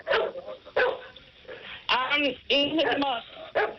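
A dog named Teddy barks in a few sharp, close bursts amid ongoing conversation, with people talking between and over the barks.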